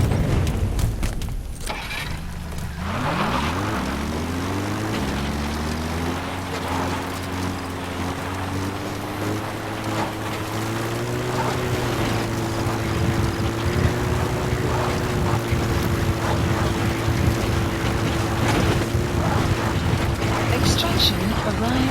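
Support helicopter arriving in Metal Gear Solid V: The Phantom Pain, rotor and engine noise rising in pitch as it spools up, then a steady loud mechanical drone holding under scattered game sounds.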